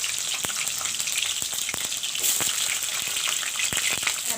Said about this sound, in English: First I'll fry the capsicum.